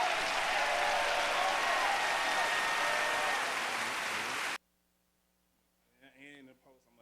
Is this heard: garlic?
no